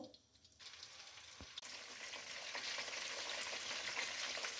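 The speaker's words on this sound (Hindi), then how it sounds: "अब मछली के पीस को डालना है।" Fish pieces drop into hot oil in a kadhai, starting from near silence before a sharp crackle breaks out and builds into a steady, moderately loud sizzle.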